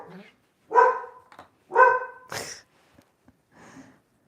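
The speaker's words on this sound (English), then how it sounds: "And we got the barky bark here again today." A dog barks a few times nearby, with two strong harmonic barks and a sharper yelp, followed by faint breathy sounds in a quiet room.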